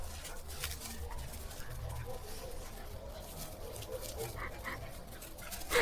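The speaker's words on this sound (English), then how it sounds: "Like a dog just having zoomies around the garden, being so happy with his life because he's found a little bit of bark on the floor." A happy dog dashing around a garden lets out faint, scattered barks and yips at a distance over steady outdoor background noise.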